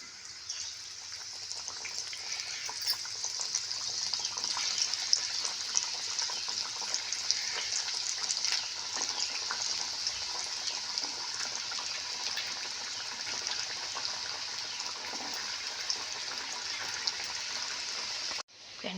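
Coriander vadis fry in hot oil with a steady, bright sizzle that holds for a long stretch, dense crackling close by, ending with a brief clatter.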